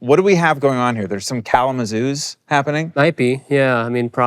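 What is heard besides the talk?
None of the usual background noises is heard.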